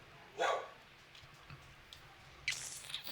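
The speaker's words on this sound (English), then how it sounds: "What are you little puppies roofing at?" Minecraft dogs (wolves) give two short, faint barks about two seconds apart, small and distant against quiet game ambience.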